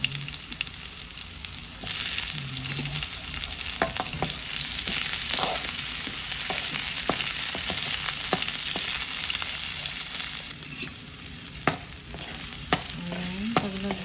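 Onion frying in a pan with garlic already browned, cooked for Filipino ginataang sitaw: a strong continuous sizzle with utensil stirring and scraping clicks near at hand, no talk.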